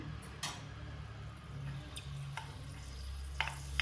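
Fenugreek seeds sizzle in hot oil as a tempering for amla chutney: a soft, steady crackle close by, with a few sharp pops and clicks scattered through.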